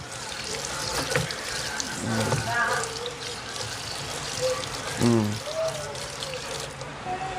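Tap water runs and splashes in a kitchen while a knife is rinsed before preparing tilapia for frying. The trickle is intermittent and moderately close, with people talking over it.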